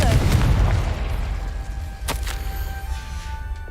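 A Confringo blasting spell explodes in Hogwarts Legacy, a loud low boom right at the start that rolls into a fading rumble, with a sharp crack partway through and a voice calling out over it.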